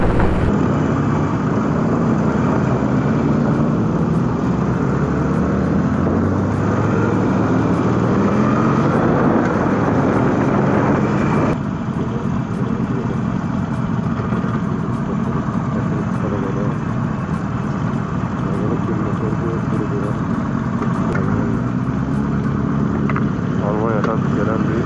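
Motorcycles riding together on a group tour, with steady loud engine and wind roar filling the whole stretch and a voice talking over it.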